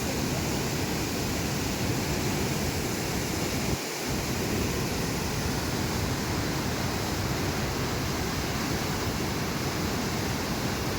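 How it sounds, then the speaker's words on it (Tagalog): Powerful water rushes over Cong Dadong Dam as a steady, dense, loud roar. It continues without a break apart from a momentary dip. "Mapapansin nyo, lakas ng tubig,"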